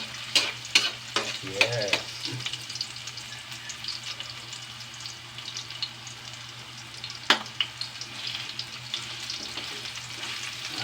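Onions and other ingredients being sautéed in a pan for ham with carrots and potatoes: close sizzling with a string of sharp spatula clacks and scrapes, heaviest at the start and again midway, with a short spoken word.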